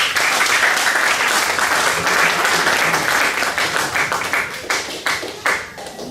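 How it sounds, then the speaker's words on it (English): An office team gets a hearty round of applause at a farewell speech, many hands clapping loudly and continuously before thinning out toward the end, with no talking over it. "let's just give the team a little clap"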